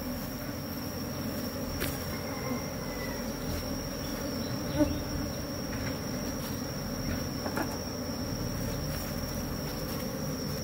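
A steady, dense buzz of many honeybees fills the air around an open hive as a beekeeper works the colony, continuous and close with no talking.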